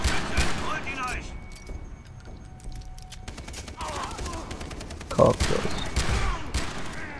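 Pistol shots from the video game Far Cry 3, a few sharp cracks with one louder burst near the end, mixed with game noise and German-speaking players talking.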